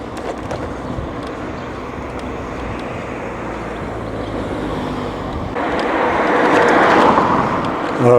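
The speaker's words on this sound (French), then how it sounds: "Alors la circulation est dense et les gens roulent vite." Dense, fast road traffic passes outside town near Waldighofen in the Sundgau, Alsace, during an electric-bike ride. Steady wind rush carries a continuous traffic drone, and one vehicle swells louder as it passes near the end.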